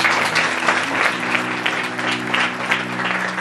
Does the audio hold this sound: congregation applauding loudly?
yes